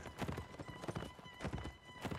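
Rapid hoofbeats clatter in an uneven galloping rhythm alongside a strained horse whinny, fairly loud and close, in a Napoleonic Wars video game battle.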